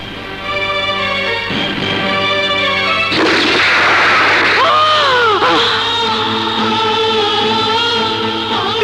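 A gunshot effect in a Bangladeshi action film scene cracks out as a sharp, loud burst midway through, surrounded by a sustained dramatic music score.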